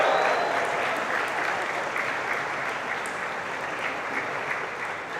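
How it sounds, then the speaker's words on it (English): A graduation audience in a hall claps and cheers, sustained dense applause with scattered whistles that gradually tapers off. "A big cheer."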